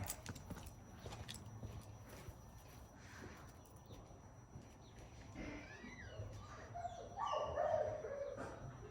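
A dog brought out during an obedience training session barks and yips a few times near the end, fairly faint, after quiet outdoor background with some scattered noises.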